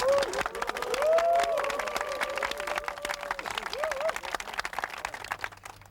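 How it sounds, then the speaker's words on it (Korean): Dense, continuous applause from a crowd at a special forces training show, with voices calling out above the clapping before it thins toward the end. "자, 큰 박수."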